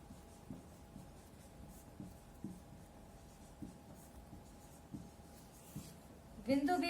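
Chalk taps and scratches on a board at a steady pace as a geometry lesson is written out, faint and close. A voice talks over the writing near the end.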